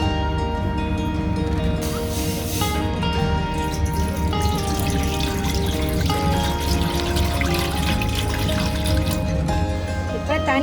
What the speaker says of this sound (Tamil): இப்போ இட்லி சட்டி அடுப்பில் வச்சுட்டு தண்ணி ஊற்றிக்குவோம்.